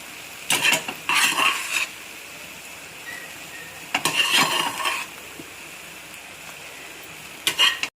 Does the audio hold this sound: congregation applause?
no